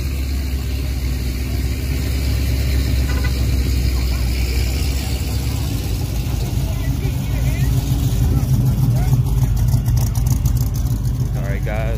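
Several car engines idle at a drag strip with a deep, uneven rumble and occasional revs, loud and close, while voices carry on over them.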